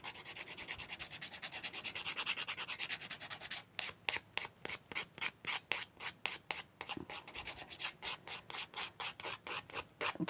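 A nail file rasps off old gel residue from a fingernail, close and crisp: slower scraping at first, then a long run of quick, evenly spaced back-and-forth strokes with only short pauses.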